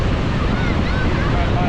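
Ocean surf rolling onto a beach on a summer day, a steady, loud broadband wash of waves with wind buffeting the microphone throughout.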